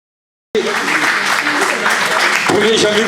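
After a half-second of silence, an audience at a regional cycling road race bursts into steady, dense applause for the winners, with voices talking over it.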